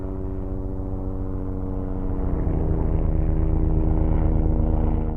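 A helicopter flies over at steady speed and altitude, its low, droning rotor and engine noise loud and continuous, with evenly pulsed blade chop that thickens and grows slightly louder midway.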